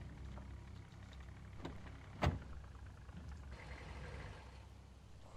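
A car engine idles in the zombie survival game Project Zomboid, a steady low rumble throughout, broken by one sharp click-thump partway through, with a stormy rain-soaked setting.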